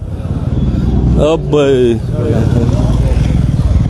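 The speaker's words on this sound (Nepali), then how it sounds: "यो नयाँ बाइकहरू आएको पर जाँदैछ" Motorcycles arrive at a bike rally from Mintokgang to Rangpo, with loud close engine rumble and a passing rev, while a voice speaks over the noise.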